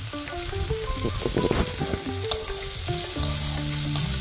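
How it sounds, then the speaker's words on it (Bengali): Chopped ginger and onion frying in hot oil for a Bengali begun bahar, a continuous close sizzle with stirring clinks, while background music plays underneath. "একটু আদা কুচি, পেঁয়াজ কুচিগুলো ছেড়ে খুব ভালো করে ভেজে নিতে হবে।"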